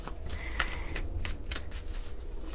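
Tarot cards are shuffled up close in a quick series of crisp riffling bursts, alone without talk.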